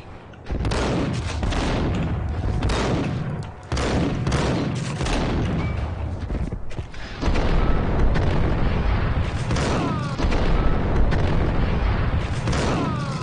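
Sustained gunfire from the video game Max Payne, dense rapid shots and booming blasts filling the whole stretch with brief pauses between bursts, loud and close.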